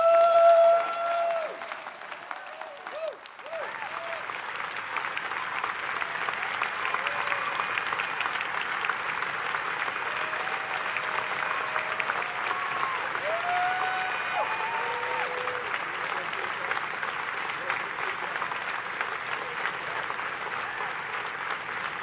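A large audience applauds steadily after an astronaut's speech, a dense, sustained wash of clapping heard from within the hall, with a few tonal voice-like sounds drifting over it.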